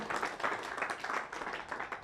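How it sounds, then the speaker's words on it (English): A conference audience applauds for Professor Stevens with dense, steady clapping throughout, filling the room without pauses. "A round of applause again"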